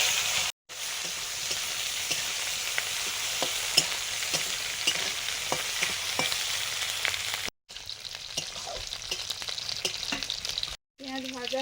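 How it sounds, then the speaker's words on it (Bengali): Chopped onions fry with a steady, loud hiss in a pan, with occasional stirring clicks, and the sound cuts out briefly twice. "পেঁয়াজ ভাজা হয়ে গেছে"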